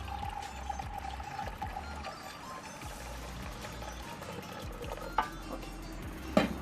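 Water pours steadily into the gap between a smaller pot set inside a bigger one, forming a double boiler for hide glue, a soft continuous splashing with a faint hum beneath and a couple of brief knocks near the end.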